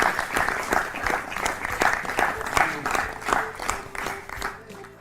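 Loud applause erupts for a correct answer in a children's quiz show, sharp individual claps standing out within a lively, rhythmic crowd of clapping that gradually thins toward the end.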